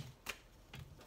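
Tarot cards shuffled in two brief riffling bursts about half a second apart, close and soft, with a quiet room murmur between them and no talking.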